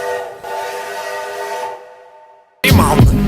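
A train whistle sounds on a rail journey from Venice to Florence, a sustained tonal blast that holds for nearly two seconds, fades, then gives way to a loud burst of rushing noise.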